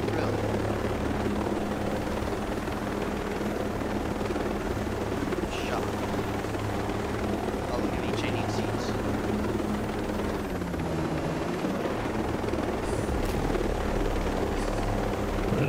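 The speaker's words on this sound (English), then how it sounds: "this is not how a helicopter flies" Steady rotor thump of a helicopter in the video game Ghost Recon Breakpoint throughout, loud and continuous, with faint voices and occasional clicks underneath.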